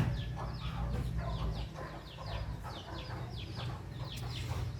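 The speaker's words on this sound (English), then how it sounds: "You hear the chicks in the background. They're just outside my window." Chicks and chickens just outside a window, giving repeated soft clucks and cheeps in irregular bursts, moderately faint behind a steady low background hum.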